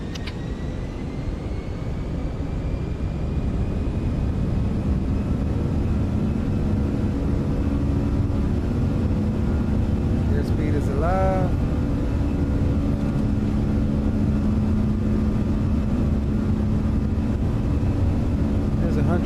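Four engines of an Airbus A340-300 spool up for takeoff at Zurich in Microsoft Flight Simulator 2024: a loud, steady, broad roar that fills the whole stretch, with a brief higher whine midway and a faint voice underneath.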